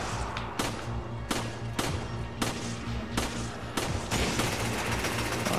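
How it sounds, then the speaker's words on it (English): Rapid sniper rifle shots ring out one after another in Resident Evil 5, about a dozen sharp cracks spaced irregularly over a steady low in-game hum and rumble. "You're gonna die from my sniper."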